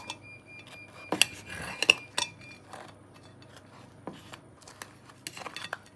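A knife slicing through freshly fried chebureki with crisp baked dough and minced meat filling, giving a few sharp crunchy cracks and clicks against a plate, spaced irregularly at close range with no voices.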